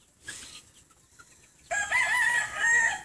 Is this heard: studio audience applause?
no